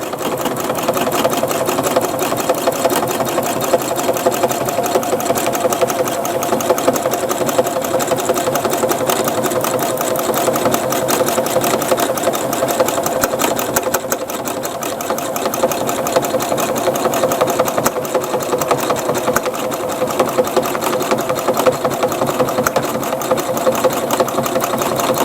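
A sewing machine stitches a quilt of mixed fabrics, running at a steady fast whir with rapid even needle clatter, loud and close for the whole stretch with no pauses.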